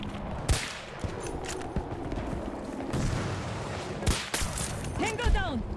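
Battlefield 2042 gunfire crackles in sharp, separate shots and short bursts scattered through a busy battlefield mix. Brief game radio voices can be heard at times.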